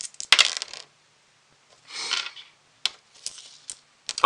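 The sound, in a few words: three dice being rolled for a board game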